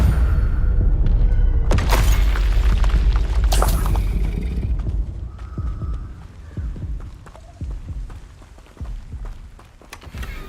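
In Hogwarts Legacy, an Expelliarmus disarming spell is cast, making two heavy booming impacts followed by a string of softer thuds and crackles over a low, throbbing drone that slowly quietens.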